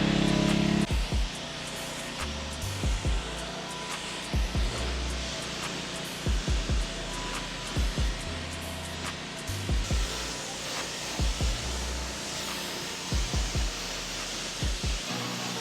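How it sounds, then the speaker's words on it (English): A car rinsed down with a water spray while being washed and detailed, a steady hissing wash of water broken by regular low thumps as the spray sweeps across the body, close and continuous, with no talking. "Now let's get to rinsing down the vehicle."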